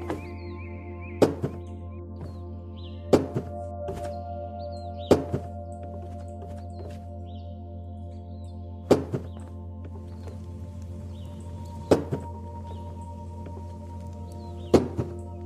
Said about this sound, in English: So I have to patch that floor that they destroyed.